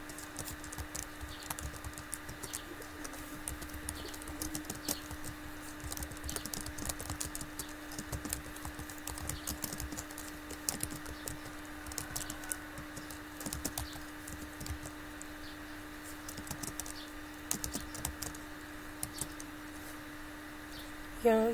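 Steady, rapid keystrokes on a computer keyboard during data entry practice, a quiet, close patter of clicks running continuously with slight pauses, over a faint electrical hum.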